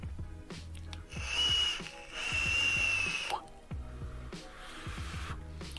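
A thin, high whistle of air drawn through a Vaporesso Luxe Nano vape with airflow fully open, rising in two long pulls, over a low mechanical hum with repeating clicks.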